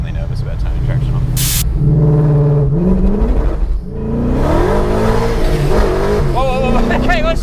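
A supercharged BMW E39 M5 with the S62 V8 accelerates hard, its engine note climbing in rising sweeps through the gears with supercharger whine, loud and close, while people talk over it.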